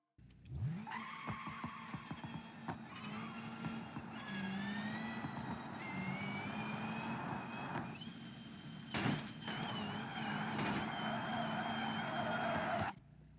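A video game Pessima street car fitted with an SS exhaust revs and holds a rising, raspy exhaust note, climbing through gears with short pauses and a sharp blip near the end.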